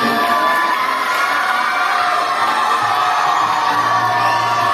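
A school crowd at a medal and awards ceremony cheers and whoops for prize-winning boys, with children shouting in a loud, dense, continuous roar.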